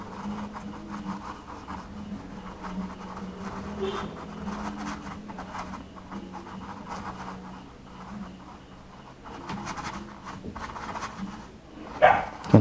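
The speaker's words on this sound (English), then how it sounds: "Sorry about the dog, everyone." A dog barks intermittently in the background of an indoor acrylic landscape painting session, the bursts fairly distinct over a steady low hum and growing louder near the end.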